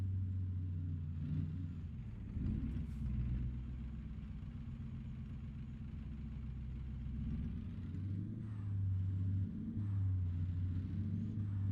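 A Kenworth truck with a 625 hp Caterpillar engine in American Truck Simulator: a deep, steady diesel rumble with a throbbing low drone and slight revving swells, loud and close throughout, no talk.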